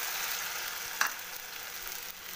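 A dry fruit mixture with cashews and coconut pieces roasts in a pan, giving a soft steady sizzle with one brief clink of a utensil near the middle.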